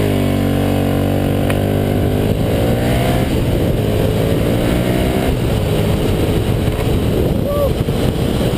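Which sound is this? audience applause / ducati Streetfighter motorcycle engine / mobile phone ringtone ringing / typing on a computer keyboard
ducati Streetfighter motorcycle engine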